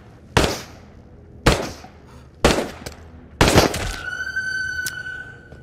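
Four loud, evenly spaced gunshots ring out close by in Into the Radius, each with a sharp crack and a short echoing tail, followed by a high electronic whine and one last faint snap.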